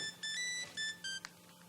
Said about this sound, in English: Oh, David, can you get my phone for me, please?